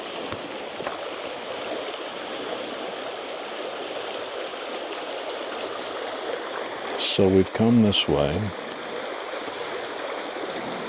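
A creek runs steadily as a broad, even wash of flowing water throughout, with someone speaking briefly over it near the end.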